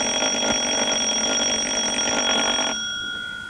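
An electric alarm bell, triggered by a mercury tilt switch, rings loud and continuous for about three seconds, then cuts off, leaving a fading high tone.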